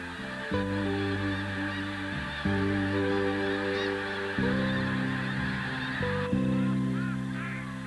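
Migrating wild geese at Sand Lake Refuge, South Dakota, honk loudly and continuously in a dense chorus of overlapping calls, a flock heard close and without voices.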